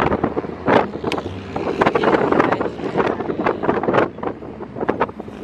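Outdoor wind gusting across the microphone in a rural northeastern Brazil spot with lots of vegetation, a steady roughness broken by repeated loud buffeting bursts throughout, with no speech.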